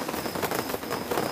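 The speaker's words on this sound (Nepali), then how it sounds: "पानी परिरहेछ हजुर पानी परिरहेछ हेर्नुहोस् बेसरी यहाँ पानी परिरहेछ" Heavy rain pours at Boudha Stupa in Kathmandu, a dense, steady wash of close rainfall with no talking.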